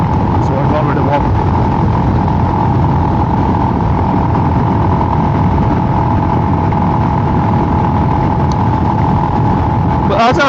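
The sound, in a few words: riding a Royal Enfield Himalayan motorcycle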